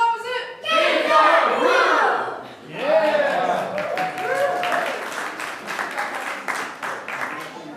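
A youth baseball team of fifth and sixth graders shouts their team cheer together in a loud, chanting group burst, with excited voices rising and falling over several seconds and an adult talking among them.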